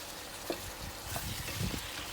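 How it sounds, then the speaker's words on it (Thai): Steady frying hiss with scattered soft scraping and stirring clatter as fish balls and shredded fingerroot are stir-fried in a pan, close up, no voices. "ผัดให้สองอย่างนี้สุกนิดนึงค่ะ"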